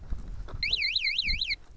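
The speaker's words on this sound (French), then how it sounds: "J'ai un antivol et aussi j'ai une alarme. À peine je touche," An anti-theft alarm on a vehicle parked in the snow at Val Thorens goes off when touched, giving a loud, rising and falling electronic warble that wails for about a second over low outdoor rumble.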